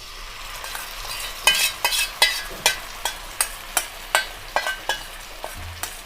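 Chicken fries in mustard oil with lightly browned onions for a dhaba-style curry, as a spatula scrapes the pan in a steady rhythm of about a dozen strokes over a constant, close sizzle.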